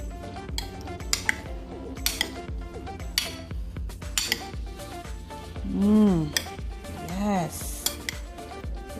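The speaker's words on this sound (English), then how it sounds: "And we're going to stir this all together." Coconut meat ceviche with parsley stirred together in a bowl, giving steady close clinks and scrapes of a utensil in quick irregular strokes, with a couple of brief tonal swells partway through.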